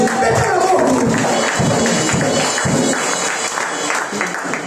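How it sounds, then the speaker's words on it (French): A church congregation at a Sunday service claps for a birthday moment, a loud, busy patter of many hands that thins slightly toward the end. "L'applaudissons au niveau."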